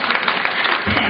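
Audience applause at a Telugu music stage show, a dense continuous patter of many hands clapping throughout, with a louder low rumble near the end.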